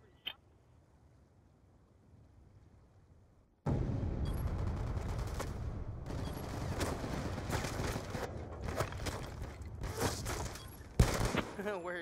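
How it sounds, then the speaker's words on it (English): Rapid video game gunfire in a sniping match bursts in after a quiet opening, with dense repeated shots and booms over chatter from players. "That's like 17 shots there"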